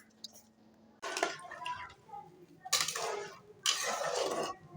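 Pumpkin curry stirred in a pot, three separate bursts of scraping and wet clinking from a spoon against the metal, close, with quiet gaps between them.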